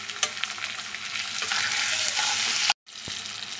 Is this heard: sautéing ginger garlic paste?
yes